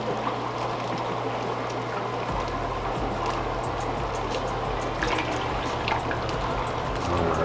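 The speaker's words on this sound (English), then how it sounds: "Get this little Kool-Aid pitcher to dump a little bit of the excess water out." Water is poured and dumped from a small plastic Kool-Aid pitcher at an aquarium tank, a continuous close trickling splash over a low hum of filter equipment.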